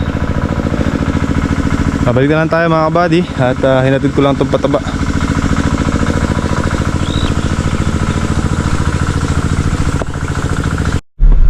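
A machine engine runs steadily on a farm during fertilizer hauling, a continuous close rumble heard throughout with someone talking over it for much of the time.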